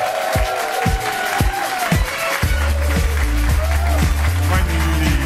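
Studio audience applauds and cheers to welcome Philippa Jarke on stage, dense clapping running throughout over loud, bass-heavy entrance music with voices mixed in.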